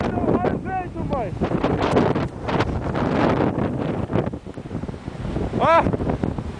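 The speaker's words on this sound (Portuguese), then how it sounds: "Olha o vento, mãe." Heavy wind roars across the microphone in a spring 2007 snowstorm, loud and gusting throughout, while a person talks over it in short bursts.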